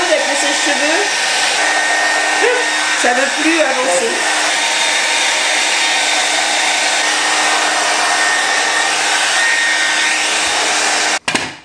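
A hair dryer blows steadily and loudly on acrylic pouring paint on a hot canvas, a continuous close whooshing roar. A voice speaks over it early on, and it cuts off abruptly near the end.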